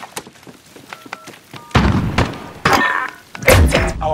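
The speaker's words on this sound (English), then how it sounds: "We're planting B." Call of Duty Modern Warfare bomb being planted at site B in a Search and Destroy match: a string of soft thunks and clicks, then louder thuds and a dense burst of rustling mechanical handling near the end.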